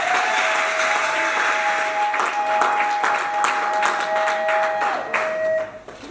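Wedding guests applaud in a steady, dense burst of clapping that carries on for several seconds, with a sustained musical tone running beneath it, before the clapping thins out near the end.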